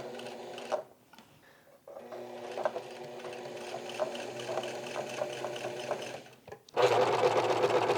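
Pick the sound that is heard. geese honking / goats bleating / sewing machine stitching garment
sewing machine stitching garment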